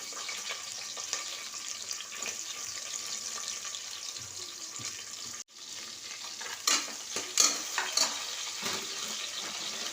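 Large onions sautéing in a pan give a continuous moderate sizzle, broken midway by a brief drop, then joined by several sharp clicks and scrapes of a utensil against the pan; no one speaks.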